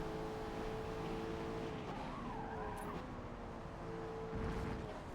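A loose, slidey car in a Forza racing game drifts through a corner, with a steady engine drone and a wavering tyre squeal rising in the middle, fairly quiet and heard alone.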